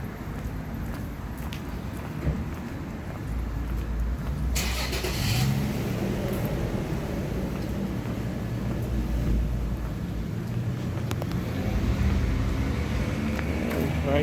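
A car moves through a narrow alley, its engine rumbling up from a quiet start into a louder, rising drive that swells and lingers close by before holding steady, with no voices.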